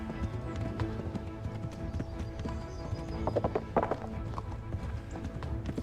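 Horse hooves clip-clopping in the medieval video game Kingdom Come Deliverance, a steady rhythmic run of hoofbeats with a brief louder cluster midway, no speech over it.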